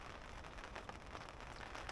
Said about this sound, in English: Starting to rain pretty good.